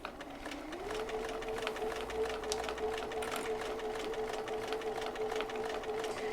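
Close, continuous whir of a sewing machine stitching a curved gusset seam at an even speed, its motor tone rising as it starts and then holding steady with no talk.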